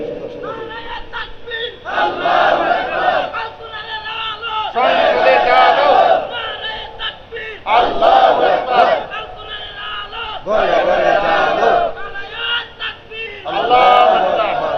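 Crowd at a religious rally chanting slogans in loud, rhythmic bursts that alternate with brief lulls across the stretch, many voices shouting together in unison.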